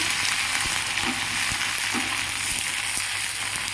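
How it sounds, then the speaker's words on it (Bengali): Eggplant (brinjal) frying in oil in a covered pan, a steady close sizzle with faint soft crackles and a low background hum, continuous throughout. "ঢাকা দিয়ে একটু বেগুনটা ভেজে নেবো"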